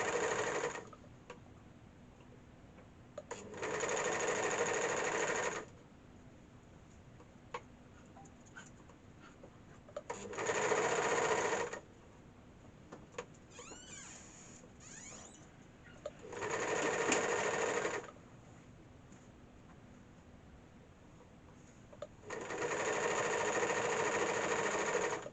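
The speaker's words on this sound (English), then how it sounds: "We will just turn it over for once and stitch down on the sewing machine." A sewing machine stitching ski pants runs in four steady, whirring bursts of a few seconds each, separated by quieter gaps with small handling clicks and fabric rustles, close and clear.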